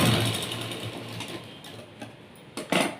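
A sewing machine stitches tucks on a straight-cut blouse, its rapid mechanical ticking fading from a louder start into a softer run, ending with a couple of sharp clicks.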